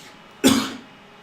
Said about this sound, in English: That was a fake cough, by the way.